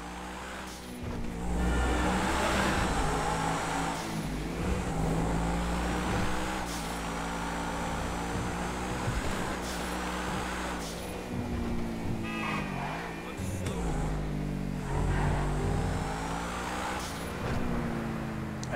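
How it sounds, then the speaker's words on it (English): Truffade Adder supercar W16 engine from GTA Online driving, a low grumbly drone with rising and falling revs and shifts, steady and prominent. "Sounds like a W16. It's very low, grumbly."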